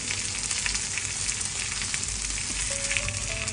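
Food fries in a pan while a bento is being cooked, a steady close sizzle with dense crackle that runs unbroken the whole way through.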